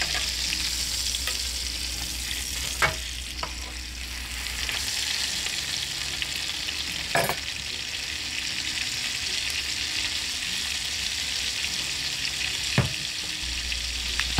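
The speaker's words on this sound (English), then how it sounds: "now, we're ready to flip the steak" Steak sizzling steadily in a hot pan, a continuous frying hiss with a few sharp clinks and scrapes as the meat is turned, close and clear with no talking.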